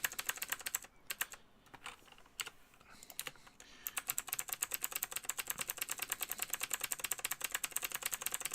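Quick, rapid clicking of fingers typing on a computer keyboard, close and crisp, with a short pause early on before a long unbroken run of keystrokes.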